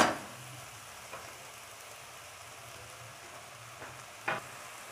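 Chicken macaroni cooks in a pan with a steady, faint sizzle, broken by a few soft stirring clinks and scrapes, and no talking.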